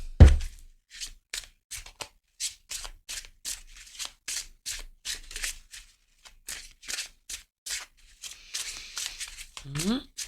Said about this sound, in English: Let's need to shuffle the cards a little bit.